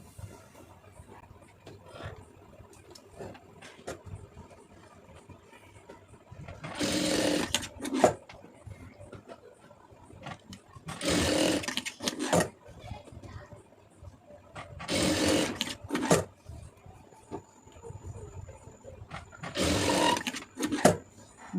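A sewing machine stitches a cross-cut neck piece into a plain blouse, running in four loud bursts of rapid stitching separated by quieter pauses with faint handling noise.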